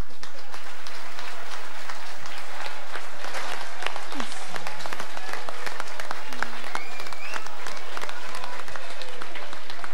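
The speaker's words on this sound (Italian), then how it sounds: "Facciamo un applauso alla Digos." An audience at an Italian political assembly on Veneto independence bursts into loud, sustained applause. Dense clapping fills the room without a break for the whole stretch.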